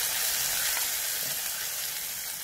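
Mustard seeds crackle and sizzle in hot oil while a curry is tempered, a dense close frying hiss with fine popping throughout.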